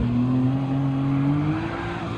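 Race car in Gran Turismo 7 with its rear end stepping out, a steady high engine drone holding a rising pitch and faint tire squeal blended in, loud and continuous throughout.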